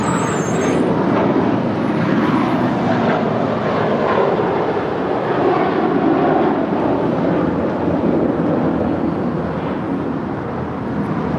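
An American Airlines Airbus A321 jet near Los Angeles International Airport gives off a steady, moderately loud engine roar with a gentle swell and fade, heard alone without voices.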